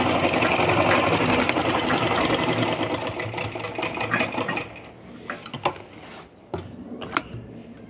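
A sewing machine stitches a foam sheet with a fast, steady mechanical whir at close range. The motor runs continuously at first, then slows and breaks into short bursts and clicks before stopping.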